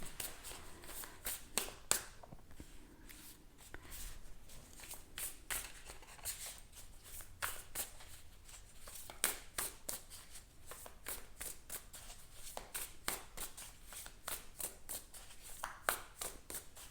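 Tarot cards shuffled and drawn by hand, a rapid run of crisp riffling slaps and flicks repeating close up for several seconds, alone with no voice.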